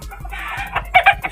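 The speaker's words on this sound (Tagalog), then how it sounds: "yan yung manok na may bulutong ito." A hen that has recovered from fowl pox clucks close by in a short run of calls, ending in a few louder, sharper clucks.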